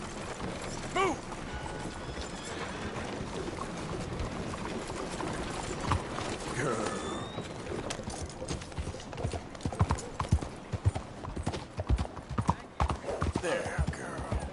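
Horse hooves clip-clop at a steady walking rhythm in Red Dead Redemption 2, with tack creaks and a brief whinny, while a voice talks over them.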